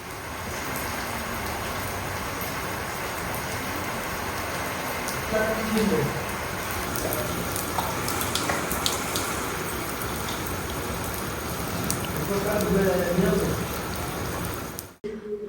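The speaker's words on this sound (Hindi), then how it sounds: "तो बारिश होने लगी थी" Steady rain pours down close by, a dense continuous patter that runs unbroken throughout, with faint voices talking now and then underneath.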